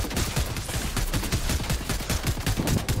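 Dense, sustained gunfire from a Fortnite match, rapid overlapping shots forming a continuous fusillade with a steady rhythmic pulse, loud and close throughout with no talk.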